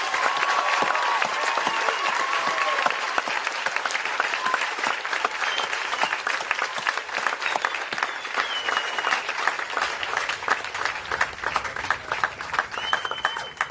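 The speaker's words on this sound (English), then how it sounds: "please join me in a round of applause of thanks for these dedicated educators" An audience at the Kihei Charter School 2016 graduation ceremony, held under a tent, applauds its educators with dense, steady clapping that lasts about fourteen seconds without a break and with no voices over it.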